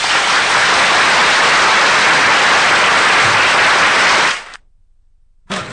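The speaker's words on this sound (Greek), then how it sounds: "χειροκροτήσετε τον άντρα" Applause from an audience in a lecture hall greeting a painter and theology student, a dense steady wash of clapping that stops abruptly and then briefly resumes.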